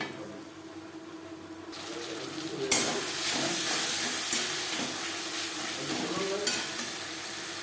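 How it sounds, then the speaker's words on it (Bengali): Spice paste of ginger and green and red chilli with onion and tomato is stirred and frying in a pan for a spicy fish curry with potatoes, giving a steady loud sizzle with scraping stirs throughout. "মশলা বেশ ভালো করে মিক্সড করে দেবো।"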